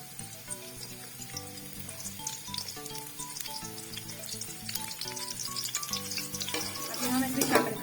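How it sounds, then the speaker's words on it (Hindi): Chopped onions fry in hot ghee for a chicken pasta dish, a continuous crackling sizzle that swells near the end, heard beneath steady background music. "यहाँ पे जी हमारा घी गर्म हो चुका है, तो हम इसमें शामिल करने लगे हैं अपने प्याज।"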